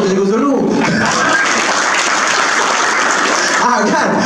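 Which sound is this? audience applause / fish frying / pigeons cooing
audience applause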